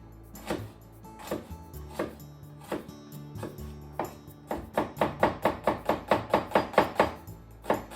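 A knife mincing peeled onion on a cutting board for tartar sauce, starting with slow, spaced chops and speeding into a quick, steady rhythm of sharp taps, close and clear with no talk.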